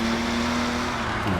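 A race car engine in a video game powers through a corner, with a loud, steady, droning engine note that runs throughout.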